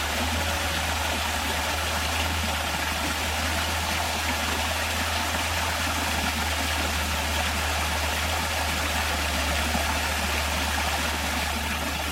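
A small waterfall on a forest trail after heavy rain gives off a steady, even rush of falling water, broad and constant throughout, with a low continuous hum underneath and no voices.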